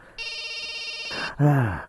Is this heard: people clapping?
no